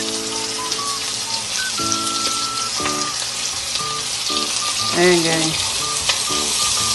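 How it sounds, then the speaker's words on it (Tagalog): Onion and garlic sizzling and frying in hot oil in a pan, a steady close crackle with occasional stirring clinks and a brief spoken word. "lalagay yung sibuyas at bawang. Lagyan na natin ang sibuyas."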